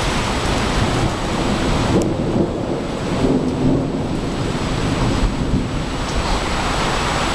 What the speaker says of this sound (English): Worst storm ever.